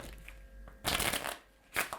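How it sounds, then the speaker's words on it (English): A deck of playing cards is shuffled by a magician in two quick riffling bursts separated by a short pause, crisp and close against quiet room tone. "I'll give them a shuffle."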